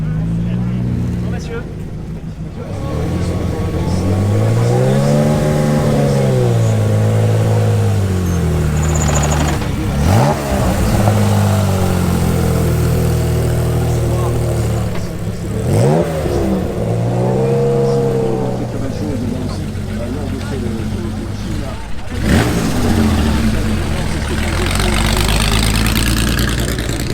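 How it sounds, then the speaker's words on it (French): Two Ferrari 308 Group B rally cars arrive at the Tour Auto, engines idling then revving hard in repeated rising-and-falling sweeps, loud and close, with a commentator talking over them. "Deux Ferrari 308 groupe B qui arrivent."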